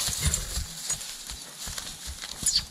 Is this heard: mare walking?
yes